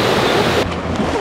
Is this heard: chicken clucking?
no